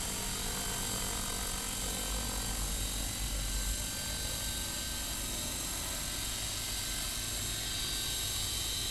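A DJI Wookong-S equipped scale RC helicopter descends during a test flight, its steady rotor whine and mechanical hum continuous and fairly distant, with no talking over it.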